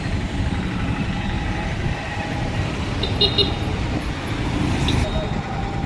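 Busy road traffic near an overbridge, with a steady roar of passing cars and buses and a few short horn toots, loud and continuous, with a voice talking over it.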